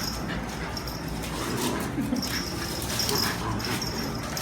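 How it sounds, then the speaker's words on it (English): Two squirmy puppies, Mexican street dogs, whimper and yip close by in soft, high, broken whines that come in short bursts over a few seconds. "I got the biggest grin with these two squirmy puppies."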